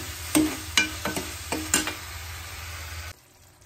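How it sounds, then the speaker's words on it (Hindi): Capsicum cooking in oil in a pan, a close sizzle broken by about five quick stirring scrapes, then cutting off abruptly into near silence for the last half second. "कैप्सिकम मैंने डाल दिया है, अब इसको पकने दूंगी थोड़ी देर"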